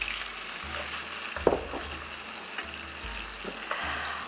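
Onion fries in a pan, heard as a soft, steady sizzle with occasional stirring scrapes and light knocks close by.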